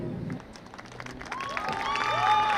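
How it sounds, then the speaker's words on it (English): Crowd at a high school football game applauding from the stands for seniors and their escorts, a scattered clapping that swells steadily, with whistles and cheers rising toward the end, heard from a distance. "Let's give a big round of applause for all of our seniors and their escorts"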